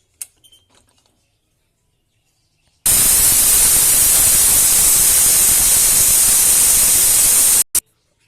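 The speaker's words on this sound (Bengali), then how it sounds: "এবার প্রেসার কুকারটাকে ঢাকা দেবো একটা সিটি ওঠার জন্য।" Pressure cooker releasing steam, a sudden loud continuous hiss that starts abruptly, holds steady for about five seconds and cuts off, preceded by faint clicks.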